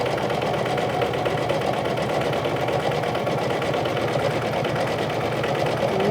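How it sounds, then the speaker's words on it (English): A sewing machine running steadily while sewing a wavy stitch with unicorn mane thread, a continuous close mechanical whir and rapid rhythmic clatter. "I'm gonna do the wavy stitch and see how it looks."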